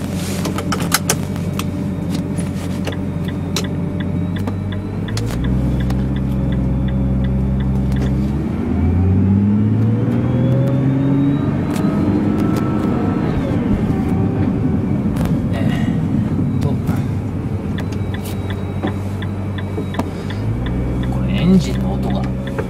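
Engine of a Nissan GT-R R35 droning steadily from inside the cabin while driving, its low rumble rising and falling with gear changes, with a person talking over it throughout.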